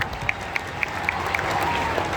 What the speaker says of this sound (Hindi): अगर आप ताली बजाते रहिए तो बच्चों का उत्साह बढ़ेगा